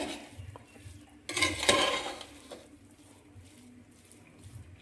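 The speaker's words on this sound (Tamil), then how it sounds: "ஒரு தடவை லைட்டாக மிக்ஸ் பண்ணிக்கோங்க" Chicken biryani being stirred lightly in a metal pot after a sprinkling of coriander and mint, giving a brief burst of scraping, clinking spoon-on-pot sounds in the middle, softer stirring before and after.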